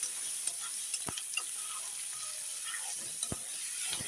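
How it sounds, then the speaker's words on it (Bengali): Onion and garlic frying in a pan with oil, a steady close sizzle with occasional stirring knocks and clinks, no talking. "এখন ভেজে নেব পেঁয়াজ রসুন"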